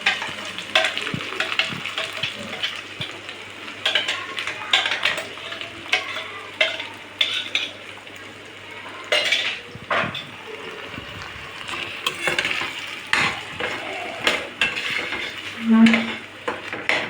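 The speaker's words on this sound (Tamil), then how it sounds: "இதை நல்லா நம்ம வதக்கிக்குவோம், தெரிக்கும்." Ground paste sautéing with garlic in a pan for jeera kulambu, a steady sizzle and splatter under repeated scraping and stirring strokes, close and fairly loud throughout, no talk.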